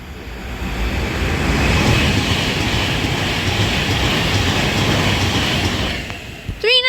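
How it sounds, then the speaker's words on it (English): An Avanti West Coast Pendolino express runs non-stop through Tamworth station on the West Coast Main Line, a loud, close, continuous rushing roar of wheels and air that fades near the end. "Now passing through on the bottom is going to be an Avanti Pendolino."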